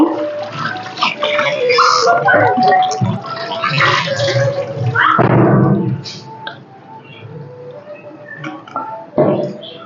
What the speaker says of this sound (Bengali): মাছগুলা সুন্দর করে ধুয়ে নিয়েছি সবগুলা মাছ ধুয়ে নিয়েছি